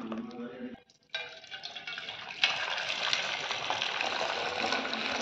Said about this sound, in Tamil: பார்த்தீங்கன்னா நம்ம வந்து ஒரு 2 ஆற்ற ஆற்றிடலாம்.